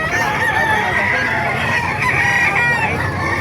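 Roosters crow and chickens cluck continuously at a busy chicken market in Calumpit, Bulacan, a dense layered chorus of fowl close by with faint voices in the background.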